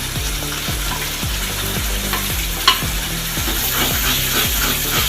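Ground chili and coriander paste fries in a pan for a Kanangeluthi fish curry, giving a steady close sizzle with a single sharp clatter partway through. No one speaks.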